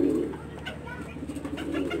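A brooding turtle dove in a breeding setup coos softly up close, low mellow hooting notes repeating steadily.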